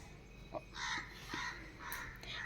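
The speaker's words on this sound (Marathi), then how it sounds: "कावळा पण काव काव करते" A crow caws several times in a row, harsh calls spaced irregularly, fairly close, against quiet background noise with no talking.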